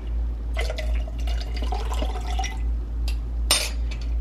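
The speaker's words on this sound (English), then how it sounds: "Now I put the hot water in here." Hot water poured into a glass holding cocoa, heard as close, uneven trickles and splashes with a bright clink near the end.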